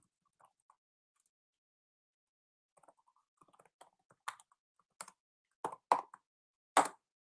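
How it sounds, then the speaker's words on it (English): Keys on a computer keyboard are tapped in short irregular bursts that grow louder and sharper, with a quiet pause before the typing starts and no talking. "I'll type it in the chat for you."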